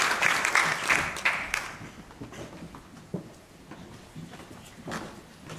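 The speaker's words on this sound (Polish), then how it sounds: "Prosimy o wielkie brawa" Applause from a festival audience at the opening of the 17th Shakespeare Festival, for the sponsors: clapping that fades from a moderate burst to sparse scattered claps, heard from a distance with faint murmuring.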